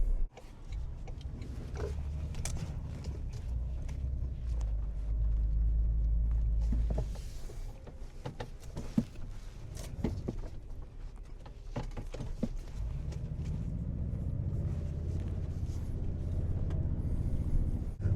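A 2025 Toyota Tundra Platinum pickup with the I-Force Max hybrid powertrain drives a short loop, its low engine rumble swelling and easing close by with scattered clicks and knocks from the cabin.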